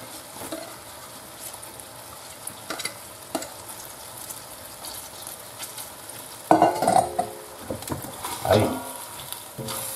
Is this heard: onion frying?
yes